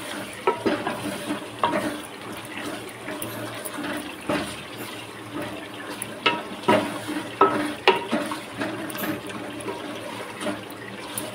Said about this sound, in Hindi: यहाँ पे मैं टमाटर अच्छे से भून रही हूँ इसको